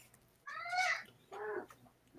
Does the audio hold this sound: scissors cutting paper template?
no